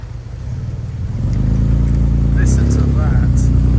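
A classic Daimler car engine hums as it is driven, a low, smooth idle that swells into a steady, deeper running tone, with voices speaking over it.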